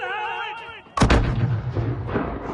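A single heavy mortar blast goes off in a video game, a sharp loud boom at about one second followed by a long low rumbling decay, with quieter tonal game sounds before it.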